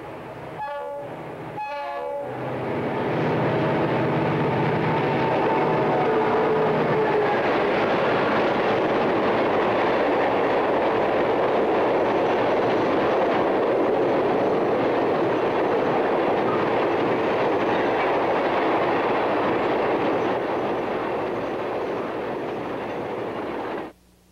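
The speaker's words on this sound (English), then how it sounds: "the northbound 418 and 404 powered unit train crosses the Sebastian Inlet Bridge" A diesel freight unit train, led by locomotives 418 and 404, rumbles steadily across the Sebastian Inlet Bridge in Florida with a roaring, rolling drone, and short horn blasts sound at the start.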